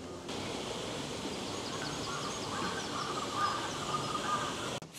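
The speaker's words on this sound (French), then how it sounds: "les sons qu'ils mettent, les oiseaux exotiques, c'est absolument magique" Exotic bird calls piped through speakers as ambient sound effects in a themed land at Disneyland Paris, chirps and trills over a steady outdoor wash of background noise with faint insect-like buzzing.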